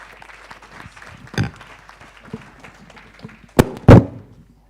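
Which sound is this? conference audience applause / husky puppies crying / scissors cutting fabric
conference audience applause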